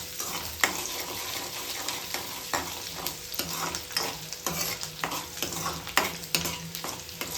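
Chopped garlic and ginger stir-fry over high flame for homemade chicken noodles, a soft continuous sizzle punctuated by regular sharp scrapes and taps of the spatula against the pan.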